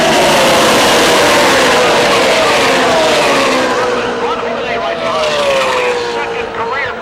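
Pickup trucks race at Talladega in a NASCAR Truck Series event, engines roaring loud and close as a pack passes, with pitch sliding down as they sweep by and a commentator talking over them.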